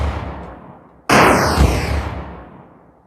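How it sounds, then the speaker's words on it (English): Game explosion effect in a Unity 3D endless runner shooter, a sudden loud broadband blast after a second of low rumble, sustaining briefly and then decaying slowly over the next two seconds. "explosion is working"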